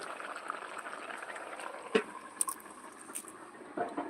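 A pot of fish, potato and cauliflower curry bubbles gently on the stove, with a steady soft simmer and occasional small pops and clicks close by.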